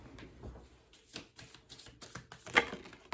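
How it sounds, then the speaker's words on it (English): A deck of oracle cards is shuffled by hand, producing quick, close, irregular papery riffles and slaps with one sharper snap near the end, quiet and alone without talk. "I'm going to give these a shuffle."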